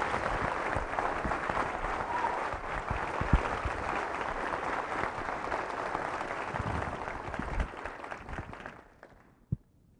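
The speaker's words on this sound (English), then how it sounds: "how about a great big Coronado round of applause for the Honorable Ray Mabus" Audience applause in Coronado at an all-hands call for the Navy Secretary, dense sustained clapping from a large crowd for about nine seconds before fading away, with a lone clap at the very end.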